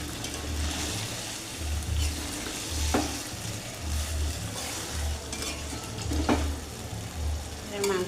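Chicken curry with potatoes simmers in a pot, a steady soft bubbling sizzle with low rhythmic pulsing and a few sharp clicks, close and moderately quiet.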